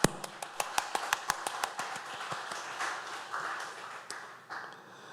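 Clapping at a church dawn prayer meeting: a crisp burst of claps at the start that thins into scattered, softer taps, fairly close and with no talk over it.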